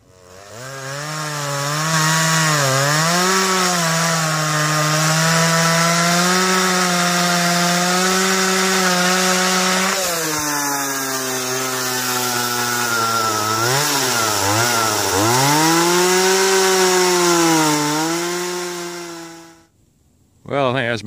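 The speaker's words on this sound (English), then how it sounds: "Still got a little more to get with the chainsaw." A chainsaw cuts firewood, its engine droning loudly and continuously, pitch dipping and rising as the chain bites into the wood, then cutting off abruptly at the end.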